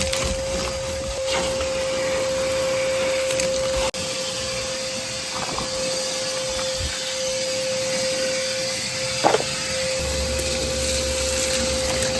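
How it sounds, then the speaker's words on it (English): A shop vac cleans filthy car carpets with a constant loud whirring hum and occasional brief knocks and sucking noises as the nozzle moves. "I am gonna go grab a shop vac because these carpets are filthy and disgusting."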